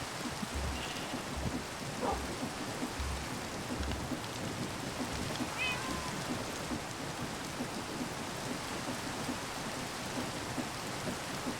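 Steady rain falls in Minecraft, a continuous even hiss of drops with a few faint brief sounds rising over it, and no voices.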